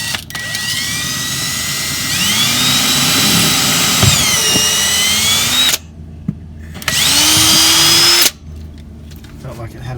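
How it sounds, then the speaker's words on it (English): Power drill bores a hole for a screw while a new Dometic 310 RV toilet is being installed, whining loudly at close range in two long bursts with a short break between them, pitch shifting as the motor spins up and down. "Drill the hole and get the screw in there."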